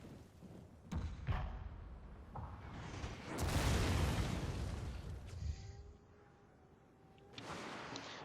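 Rifle volleys from line infantry in Total War: Fall of the Samurai crack out as scattered sharp reports, with a heavy rumbling burst in the middle and more distant shots afterward amid battle noise.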